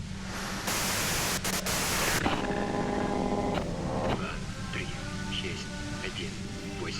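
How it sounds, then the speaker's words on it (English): Loud white-noise static from the video game Disco Elysium swells into a dense hiss, then gives way to steadier tones with voices mixed in. "If you've got something really important to say, you can do it through the white noise."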